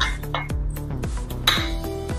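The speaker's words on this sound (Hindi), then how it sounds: "अच्छे से हमने मिक्स कर लिया है और ऊपर से ढक्कन लगा देंगे।" A metal lid set onto a pot of soybean pulao, giving several sharp clinks and rattles close by in quick succession, with no talking.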